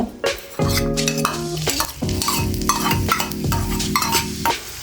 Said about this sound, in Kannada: ಎಣ್ಣೆ ಹಾಕ್ತೇನೆ ಎರಡು ಮೂರು ಸ್ಪೂನ್ ಹಾಕಿ ಆಮೇಲೆ ಹೆಚ್ಚಿಕೊಂಡು ಈರುಳ್ಳಿ ಹಾಕಬೇಕು